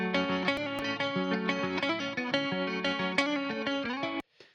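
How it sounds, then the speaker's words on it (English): Chorus and flanger effects swirl on a distorted track in an indie rock and nu metal mix, a dense sustained music passage with shifting harmonics that plays loud for about four seconds, then cuts off abruptly. "that spreads it in the stereo field and just adds that flanger and chorus"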